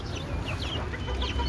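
Young chicks cheep and peep steadily at close range while being fed, with soft clucking in a continuous, busy chorus and no talk.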